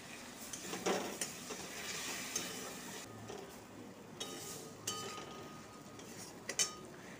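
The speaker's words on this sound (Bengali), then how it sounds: "এবার এই মশলাটাকে দিয়ে দিচ্ছি, দিয়ে আবার ভালো করে কষিয়ে নেব" Spice paste with ginger being sautéed in a pan for a cauliflower fish curry, a soft steady sizzle under intermittent scraping and stirring strokes with a few light clinks of a spoon against the pan, moderately quiet and close.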